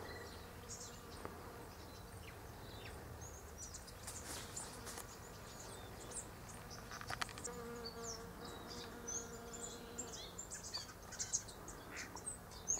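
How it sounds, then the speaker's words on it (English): Bees buzz faintly around pink nectarine blossoms outdoors, a steady soft insect drone with scattered brief sounds over a quiet background. "Listen to the bees."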